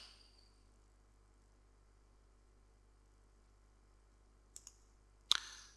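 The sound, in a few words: computer mouse click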